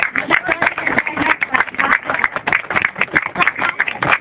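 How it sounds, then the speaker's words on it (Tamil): Clapping from an audience at a public function of a Tamil social justice movement, a close, uneven patter of many hands, loud and irregular, with no voices over it. "எல்லாம் கரகோஷம் கொடுங்க."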